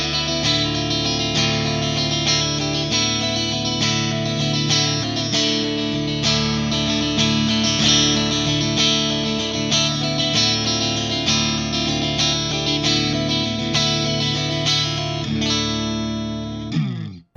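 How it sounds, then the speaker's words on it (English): A sustained, effects-heavy electric guitar plays ringing chords and notes continuously through a Bogner Uber Ultra EL34 tube amp in clean mode, with a shimmering, slightly driven tone, then cuts off abruptly. "It can do a clean mode that has a nice sparkly chime to it."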